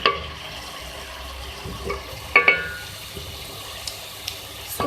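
Sarson ka saag mixed with chicken in a pan, soft stirring scrapes and light sizzling with a few louder knocks of the spoon against the pan.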